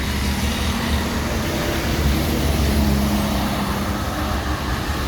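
An Indonesian intercity bus on a road gives a steady, broad traffic rumble of engine and tyre noise, fairly loud and close, with no voices.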